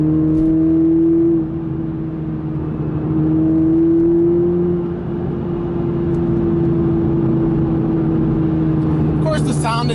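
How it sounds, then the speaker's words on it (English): A 2021 Toyota Supra with the 2.0-litre four-cylinder engine drives along, its steady droning hum rising and settling in pitch with changes in load, heard close inside the cabin while a person talks over it. "the sound of the engine I don't feel is as good with the 4, but it's not a bad sounding 4-cylinder"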